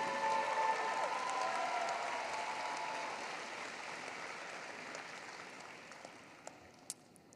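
An audience at a high school graduation ceremony applauds the school staff, a broad, steady wash of clapping that slowly thins and fades, with a few scattered final claps near the end.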